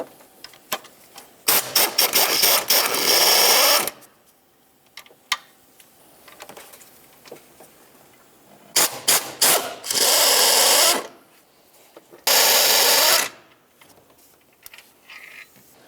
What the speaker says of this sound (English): Now we can move along to unbolting the alternator from its mounting bracket.